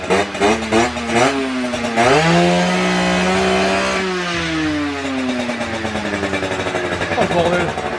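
Small MBK X Limit 50cc motorbike engine revving loudly close by, pitch climbing and falling through repeated throttle blips with a sustained high rev in the middle, voices talking over it.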